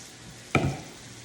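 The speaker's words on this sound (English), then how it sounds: "I'll hear a bit of a sizzle because it is still really hot" A single sharp sizzle erupts as slightly wet Brussels sprouts hit a hot pan, loud at first and then settling into a softer hiss.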